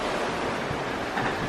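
Ocean waves wash and roll steadily on a windy, choppy day at sea aboard a cruise ship, a dense, loud rush with wind buffeting the microphone and no voices.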